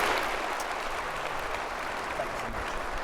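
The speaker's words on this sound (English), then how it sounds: "A round of applause." Audience clapping fills a conference stage after a healthcare markets talk, a steady, dense wash of applause lasting the whole moment at moderate loudness with no gaps.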